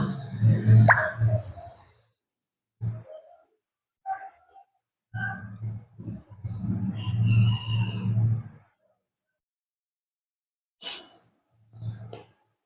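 Semolina pudding mixture is stirred in a pan on the stove. The clip holds bursts of wet, gloopy scraping and plopping, with short silent gaps between the strokes, close and moderately loud.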